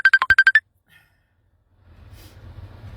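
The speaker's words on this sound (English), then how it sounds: "somebody just rang through" Phone ringtone from an incoming call, a quick series of about seven bright electronic beeps that stops abruptly, followed by silence and then soft breathing close by.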